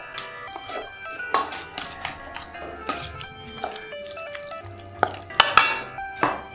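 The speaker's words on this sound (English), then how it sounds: "Give it a bit of a mix." A spoon stirs raw garlic into a yogurt tzatziki mixture in a bowl, giving close, irregular clinks and scraping taps against the bowl with a few sharper knocks.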